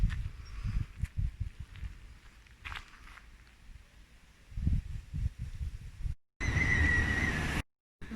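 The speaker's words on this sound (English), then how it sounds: "Not sure what these donkeys are all about." Donkeys near gates on an outdoor trail: uneven hoof steps and rustling close by, then a short, harsh, braying burst, with no talk.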